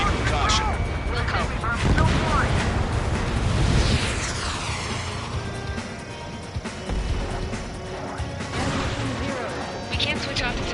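Explosion in the air-combat video game Ace Combat 7, a loud, rolling blast and crashing rumble that swells and fades, mixed with game music and radio voices talking.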